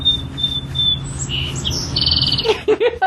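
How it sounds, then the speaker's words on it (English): A bird calls close by during an indoor podcast recording, giving a steady high whistle, then scattered chirps and a run of sharp squawks near the end, with no one talking over it. "Bird, go talk to your family somewhere else."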